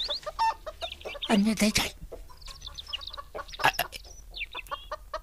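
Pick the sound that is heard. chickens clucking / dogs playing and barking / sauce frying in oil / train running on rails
chickens clucking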